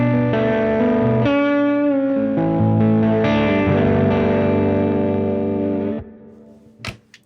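A 26-inch-scale cedar lap steel guitar is played through a Righteous Sound humbucker pickup, giving loud sustained chords and sliding notes that shift pitch, then ring out and fade. A brief faint noise follows the decay.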